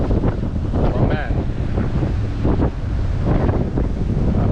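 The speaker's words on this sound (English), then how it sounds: "there's waves" Ocean waves surge along the coast at Cartagena, a dense rushing wash under constant heavy wind buffeting the microphone.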